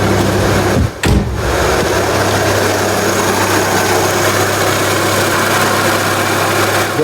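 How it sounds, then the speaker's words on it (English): A 2004 Renault Scenic 1.6 L petrol engine idles steadily with a low, even hum and a constant drone, heard close up with no talking apart from a brief dropout near the start. "the engine is idling normal without any talking, no hissing sounds or like that, no leaking"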